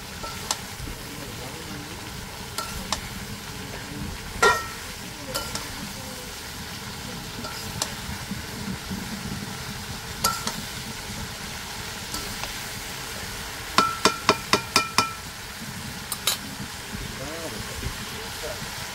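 Taro stolons fry in a pan, giving a steady low sizzle with occasional stirring scrapes and a brief burst of clinking taps near the end, heard up close in a home kitchen under a background murmur.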